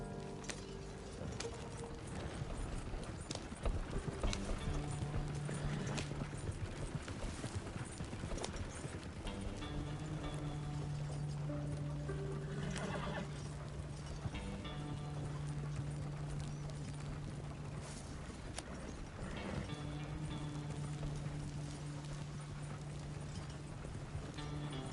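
Hooves of a horse galloping in the video game Red Dead Redemption make a steady, fast clip-clop rhythm throughout, fairly quiet, with a low sustained hum running under parts of it.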